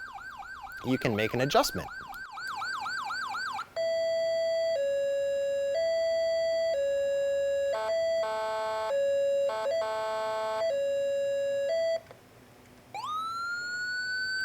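A Whelen EPSL1 Epsilon Series 100-watt electronic siren cycles through several patterns: a wailing sweep, steady two-tone beeps, and rapid yelps, loud and close, with a brief spoken remark at the start.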